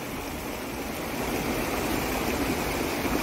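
A glacial mountain stream below Kazbek in Georgia rushes steadily nearby, a continuous broad wash of flowing water with no voices.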